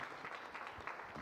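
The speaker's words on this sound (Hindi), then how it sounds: "कुछ तालियां आपकी अच्छी गायकी के लिए" A studio audience at a televised Urdu singing competition applauds in a soft, continuous patter, heard faintly and at a distance.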